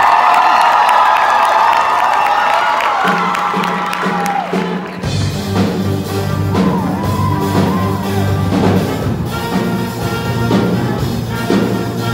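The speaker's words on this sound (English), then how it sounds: "Let's give a big round of applause to Edgewood Music Warehouse." Audience at a show choir competition applauding and cheering, with shouts and whoops from a large crowd; music with steady tones cuts in partway and carries on under the crowd noise.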